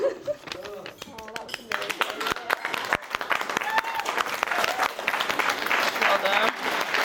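Wedding guests burst into applause and cheers after a toast, a dense wash of clapping that builds and stays loud, with voices calling out in the crowd.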